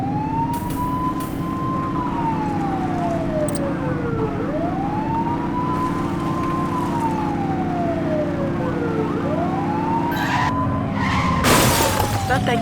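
Wailing police siren rising and falling in long sweeps during a car chase in the video game The Precinct, loud and steady over engine noise, with a crash and shattering near the end.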